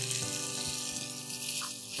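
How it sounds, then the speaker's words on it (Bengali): Boiled liver and Malabar spinach sautéing in a pan, a dense, steady close hiss of frying with faint scraping of a spoon throughout. "আচ্ছা, এটা ভালো করে কষিয়ে নিচ্ছি।"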